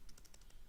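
Fingers tap quickly on a computer keyboard, about six light, close clicks in rapid succession over a low steady background hiss.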